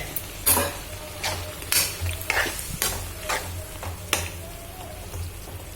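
Tamarind extract being added to brinjal curry in a pan and stirred, with wet sizzling and several sharp scraping strokes of a spoon against the pan over a steady low hum.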